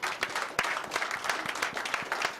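Audience claps in a studio during a radio talk programme, a crowd of hands applauding steadily with distinct sharp claps popping out of the even wash of sound.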